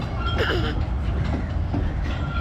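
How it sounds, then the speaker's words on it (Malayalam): A train passes near Veli Lake as a steady, close rumble that runs through the whole stretch, with voices talking over the rolling noise. "ഇപ്പോഴാണ് ട്രെയിന് പോകുന്നത്"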